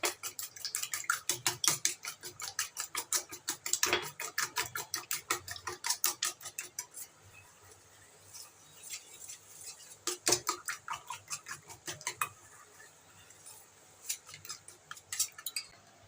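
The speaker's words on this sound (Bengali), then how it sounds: "এবার ভালো করে ডিমটাকে ফেটিয়ে নেবো" Eggs seasoned with pepper and turmeric are beaten briskly in a bowl for an omelette, giving rapid rhythmic clinking taps in fast bursts, pausing around the middle and resuming in uneven runs, close and clear with no talking.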